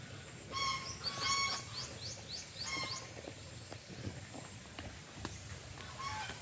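Ducks and chickens on a farm that also keeps pigs and tilapia let out a burst of nasal honking quacks early on, then scattered fainter calls over outdoor background noise.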